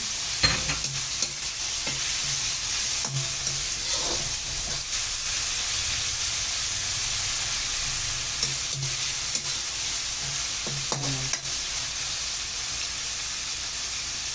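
Marinated chicken fries with crushed, sautéed tomatoes for a string bean dish, a continuous sizzle and hiss broken by intermittent scraping stirs of a utensil in the pan.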